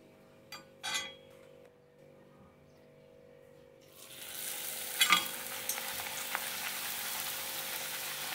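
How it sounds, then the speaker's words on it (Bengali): Luchi puffed flatbread deep frying in hot oil: a few clinks first, then a quiet pause before a strong, continuous sizzle swells up and holds steady with occasional pops. "আমি সব লুচিগুলো এভাবে ভেজে উঠিয়ে নেব"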